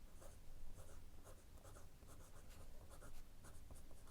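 A broad nib fountain pen scratches across paper in soft, quiet strokes, a faint rhythmic scraping with brief pauses between letters.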